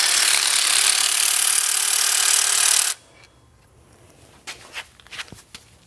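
Power tool spinning bolts out of a 2005 Subaru Forester power steering pump bracket: a loud steady whir for about three seconds that cuts off abruptly, followed by faint clinks and handling noises.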